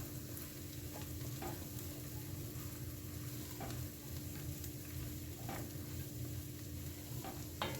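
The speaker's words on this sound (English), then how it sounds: "I'm gonna let the mushrooms saute for a little" Mushrooms sautéing in a pot for venison stew, a soft continuous sizzle with occasional light stirring scrapes and clicks, fairly quiet and steady with no talking.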